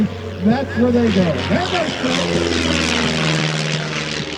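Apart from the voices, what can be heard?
Vans RV Rocket 6 aircraft engine at airshow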